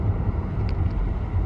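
A 2025 CUPRA Tavascan SUV hums and rumbles steadily as it accelerates from 0 to 60 on a wet, slippery road in the rain, road and wind noise continuous.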